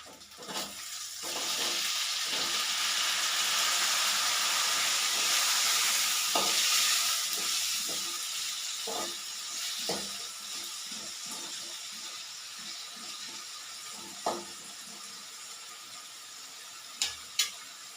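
Loud hissing sizzle as chopped tomatoes hit a hot pan for sambar, the frying roar easing off gradually, with scattered clinks and taps of a utensil stirring.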